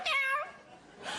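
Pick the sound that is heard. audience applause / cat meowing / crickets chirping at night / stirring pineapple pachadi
cat meowing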